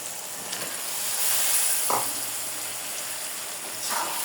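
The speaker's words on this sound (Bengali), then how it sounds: "মশলার সাথে একটু ভালোভাবে কষিয়ে নেব" Small mixed river fish and cut potatoes frying with spices in a pan give a steady close hiss and sizzle, with a few scraping stirs standing out above it.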